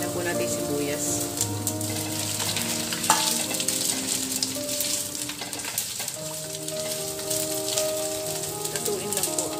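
Onions sizzling in hot oil in a pan with browned garlic, a steady dense crackle with occasional stirring scrapes.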